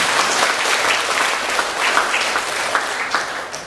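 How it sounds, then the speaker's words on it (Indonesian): Audience applause fills the room at a training event on green vehicles in Tuban Regency, a dense steady clapping at moderate loudness that carries on without a break, with no talking over it. "Tepuk tangan untuk Ibu Suryana."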